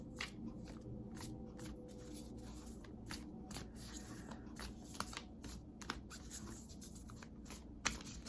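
Tarot cards being shuffled and handled for a reading, producing soft, irregular riffling and slapping clicks with a few sharper snaps, fairly quiet and close, with no talking.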